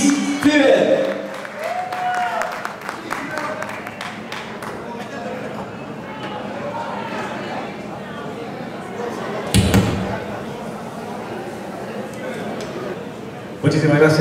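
Audience applause at a live tribute show in a Chile music hall, a dense roar of clapping and cheering that swells near the start and again later, with an announcer's voice over the crowd.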